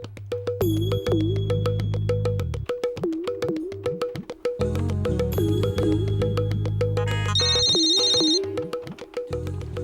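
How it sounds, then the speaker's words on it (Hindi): A telephone ringtone playing a repeating electronic melody, loud and continuous for about ten seconds, set in a Hindi television drama scene. "अरे वहाँ पर कोई दीपांकर है क्या? उसके लिए किसी मंदिरा का फोन है।"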